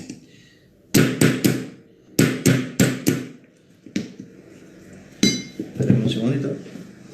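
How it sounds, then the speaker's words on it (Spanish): Hammer blows during electrical work, struck in quick bursts of three or four sharp metallic impacts, loud and close, with clattering and a little handling noise between groups. "acá voy a tener que golpear con un martillo"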